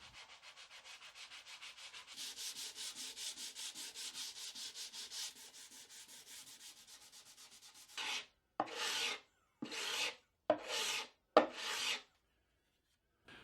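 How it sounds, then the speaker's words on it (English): Hand sanding a solid wood box with box joints: fast rhythmic back-and-forth scratching strokes for several seconds, then five separate louder, longer strokes with short pauses between them, close and alone. "what I'll do is I'll sand that smooth after it's all cut."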